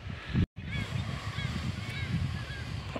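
Seagulls call over quarry lakes with red water near Bogdanovich in Sverdlovsk region, giving several thin, faint, distant cries over steady wind and rumbling background noise.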